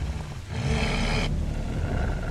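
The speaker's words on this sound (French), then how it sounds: "Tu entends le grognement d'un animal qui s'approche." Low, rough growl of a wolf drawing near, a sustained rumbling snarl that swells after a brief pause and holds steady at close range, with no voices over it.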